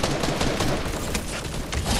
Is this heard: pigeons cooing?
no